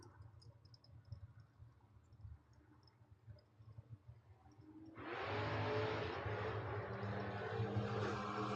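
Drag racing car at a street strip event, a low engine idle rumble giving way to a sudden loud roaring launch that holds steady and intense down the track.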